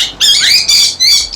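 A pet parrot gives three loud, harsh squawks right up close, each about a third of a second long and coming in quick succession, with no other sound around them.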